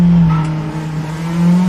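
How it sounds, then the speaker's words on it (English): Praga race cars roar together around a track in a close UK championship battle, one tucked half a second behind another; a loud, steady engine drone with a sustained buzzing pitch fills the short stretch. "so Creevy there tucking in, getting that slipstream as well, only half a second back from Stradermans."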